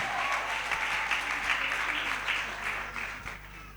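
Applause from a crowd at a testimony gathering, steady dense clapping of many hands that holds at an even level throughout before easing slightly at the end.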